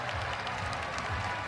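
A basketball crowd at a UConn vs Georgetown women's game applauds in a dense, steady wash of clapping that fills the whole brief moment at moderate loudness.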